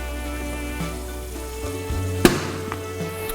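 Potato pieces for Kolkata-style chicken biryani frying in hot oil, a steady sizzle under a low hum, with a sharp clatter of a utensil partway through.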